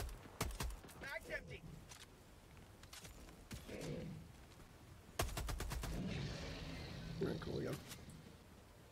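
Gunfire in the video game Helldivers 2, heard as several sharp bursts of rapid shots, including a longer rattling volley midway, mixed with voices talking between and over them.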